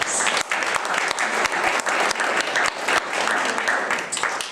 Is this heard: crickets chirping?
no